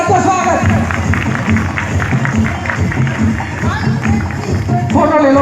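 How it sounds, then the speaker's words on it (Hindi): A crowd at a welcome ceremony for a village head with flower garlands gives a dense, steady round of applause lasting several seconds, with voices and crowd noise mixed in. "जोरदार तालियों के साथ में स्वागत।"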